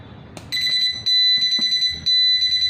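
A digital calendar clock's alarm beeps loudly in rapid high-pitched bursts, repeating in steady groups, with a click just before it starts.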